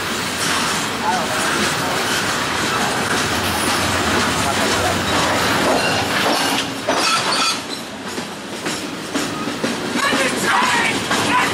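A Norfolk Southern freight train passes westbound, a loud, close, continuous rumble with rattling, clattering wheels throughout, and voices come and go beneath it.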